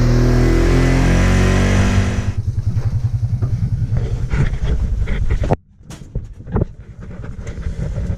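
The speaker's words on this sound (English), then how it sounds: "start up the tractor" A cold-natured farm tractor starts up during a corn harvest. A loud rushing noise gives way to rhythmic low chugging as the engine turns over, then a sudden drop and a few sputtering revs as it catches, close and unaccompanied by talk.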